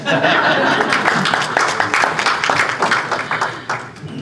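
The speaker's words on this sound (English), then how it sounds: "that round of applause was definitely warranted" A crowd applauds at a book launch award presentation, loud and close, with scattered laughter and chatter mixed into the clapping.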